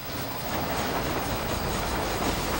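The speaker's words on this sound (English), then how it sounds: "Now this train is on its way." A train rolls along in the Western video game Red Dead Redemption, a continuous, fairly loud rumble of wheels and rail clatter with no voices over it.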